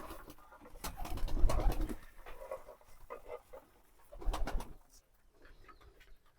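Domestic pigeons in a loft cooing at feeding time, a few low throaty coos close by with soft wing flutters and pecking patter between them.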